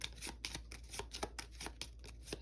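A deck of game cards for a solo deck-building board game is shuffled by hand in repeated soft riffling bursts, close and quiet, with no talk.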